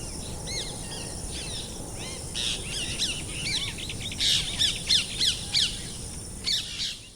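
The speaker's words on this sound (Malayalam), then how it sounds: "ഇവിടെ കുറേ പക്ഷികൾ ഇങ്ങനെ കൂട്ടത്തോടെ പറന്ന്" A flock of birds chirps and squawks in quick bursts over a low outdoor background, the calls growing louder and busier toward the end.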